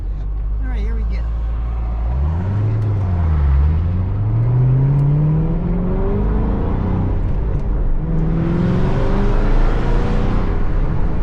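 A 2007 Shelby GT500 SVT Mustang with a Corsa exhaust revs close by, its loud rumble climbing and falling through a few long throttle sweeps before settling into a gear-held drone.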